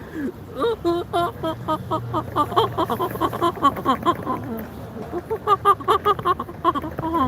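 A person mimics seagull calls with a string of harsh, squawking vocal cries, rising and falling in quick bursts, close and fairly loud.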